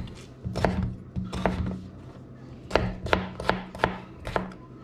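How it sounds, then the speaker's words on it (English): A knife dices raw potatoes into small cubes on a cutting board in a home kitchen, a quick run of sharp, close chopping taps in short bursts with brief pauses between them. "So we're gonna do our small dice."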